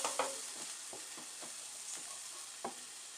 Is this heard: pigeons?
no